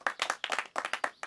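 Hand claps used as a control input, about eight sharp, close claps in quick irregular bursts, each a crisp snap with a short decay, alone without talk.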